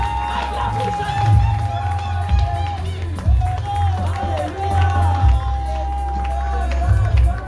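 A church congregation cheers and acclaims at full volume, with a continuous roar of voices and shouts and a sustained keyboard tone running beneath the crowd.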